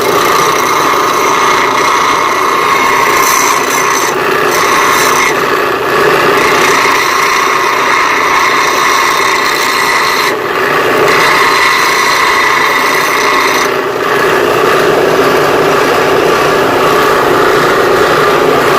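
A power tool grinds paint off metal ahead of welding, a loud, steady, continuous whine that dips briefly a few times and carries on alone with no talking.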